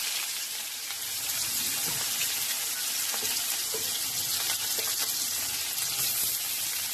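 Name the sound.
onions frying in hot oil with nigella seeds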